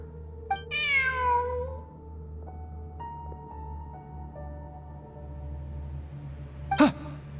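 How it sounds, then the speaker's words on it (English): A cat meowing in the video game Genshin Impact, with one clear drawn-out meow near the start and a short sharp call near the end, heard close over a quiet tonal game backdrop with no talk. "Look, a cat."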